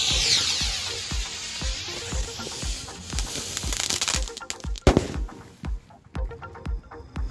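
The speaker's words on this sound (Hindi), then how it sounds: "अभी चलिए लगाते इसके अंदर आग" Diwali firecracker combo set off inside a bottle, giving a run of sharp crackling pops and bangs at an uneven rhythm, with one louder blast near the end before it tapers into scattered snaps.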